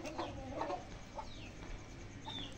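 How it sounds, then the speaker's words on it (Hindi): Fancy pigeons shuffle and coo in their loft, soft scattered calls and faint fluttering over a low background hum, heard quietly and at some distance. "ये चेक करें कबूतरों को"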